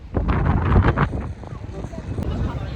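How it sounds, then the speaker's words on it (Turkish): Strong wind blows across a bridge in Amasya and buffets the microphone with a deep, uneven rumble, heard under a person talking. "Rüzgar hala şiddetini azaltmadı."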